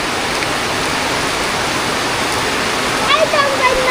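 Heavy typhoon rain pours down steadily in a loud, dense wash, close and constant throughout with no pauses.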